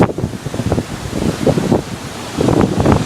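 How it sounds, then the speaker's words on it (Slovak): Strong hurricane wind on the Isle of Man roars through palm trees, a loud, continuous gusty rush with rustling fronds and buffeting against the microphone, and no voices. "Na tých palmách je snad vidno, ako tu fučí vietor, mám také malé tornádo."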